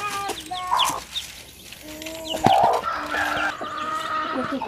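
A hen clucks near and loud among 22 newly hatched chicks, her short repeated clucks mixed with high thin peeping, set on a simple rural homestead in the interior of Ceará, Brazil.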